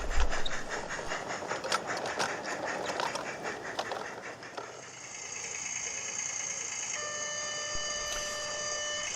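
A model goods train, the Down pickup goods bound for Bickerton, rolls past Bulkeley Station on the Peckforton Light Railway with rhythmic clattering, then gives way to sustained whining tones that hold steady toward the end.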